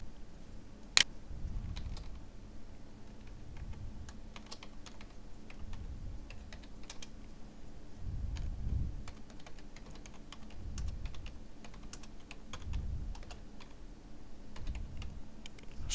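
Steady typing on a computer keyboard while entering a chart title in MS Excel, a continuous soft patter of quick keystrokes with one sharper click near the start, close and quiet, with no talk.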